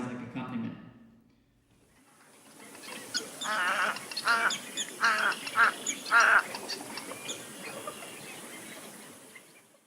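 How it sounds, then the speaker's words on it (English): Marsh birds recorded in a binaural swamp setting: a steady bed of chirping and tweeting, with a louder bird calling out in rhythmic bursts over it, likely the egret, after a brief opening of other sound that fades out. "these birds that are tweeting in the background, and then the egret sort of soloing with what sounds like accompaniment"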